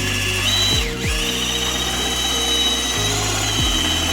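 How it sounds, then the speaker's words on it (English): A power drill with a mixing paddle runs at low speed through material, a steady mechanical whir with a couple of brief pitch dips as it slows and recovers, loud and close. "now you're gonna pick up your drill"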